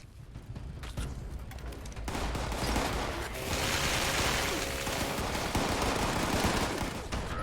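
Dense gunfire in the online game Fallout 76, a steady barrage of overlapping shots and bursts that swells after the first couple of seconds and holds loud throughout, with no talk.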